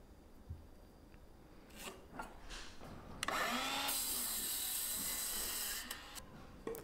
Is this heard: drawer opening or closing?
no